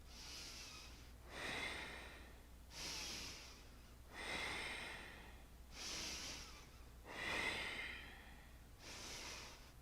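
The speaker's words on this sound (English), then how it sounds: "it's not breath of fire, but they are forceful," Forceful, quick yoga breathwork breaths come as about six strong, evenly spaced bursts of rushing air, close and loud, with nothing else around them.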